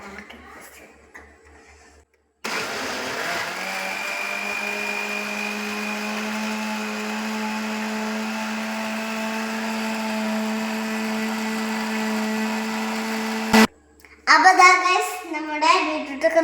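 A mixer grinder blends beetroot for juice with a loud, steady motor whine and droning hum for about eleven seconds, then cuts off abruptly. Voices, including a child's, can be heard before and after it runs.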